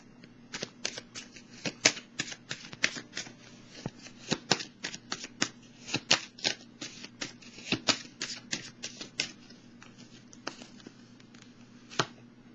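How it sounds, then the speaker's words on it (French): A deck of tarot cards being shuffled, rapid riffling flutters in quick irregular bursts, close and crisp, continuing for several seconds before tapering off, with no talk. "On va piger une carte pour cette zone"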